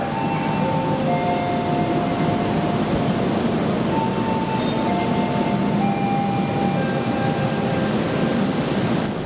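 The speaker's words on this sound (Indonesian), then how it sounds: "Jalur 1 ada dinas rangkaian kereta api Bima dari Depo Cipinang menuju stasiun Jakarta Gambir" A Bima passenger train moving along track 1 near Jakarta, a steady broadband rumble of wheels on rail with faint tonal squeals, continuous and fairly close, with no talk.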